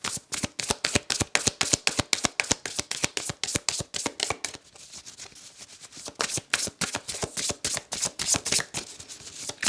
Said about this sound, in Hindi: ओके, कार्ड्स को शफल करते हैं।